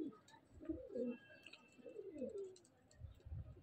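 A pigeon coos softly in a few low, rolling phrases, close by and otherwise alone, with faint background chirps.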